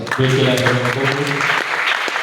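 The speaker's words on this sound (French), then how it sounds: "Acclame le Seigneur." Church congregation clapping and cheering in praise, a steady wash of applause with voices and a sung or shouted tone underneath, fading toward the end.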